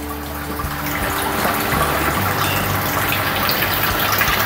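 Water draining out of a tilapia fish tank in a recirculating aquaculture system, a loud steady gushing rush with a low hum underneath, continuous throughout.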